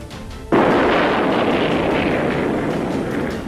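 A Patriot missile's live warhead intercepts a low-altitude target in a sudden loud blast, followed by a long, roaring rumble that slowly fades.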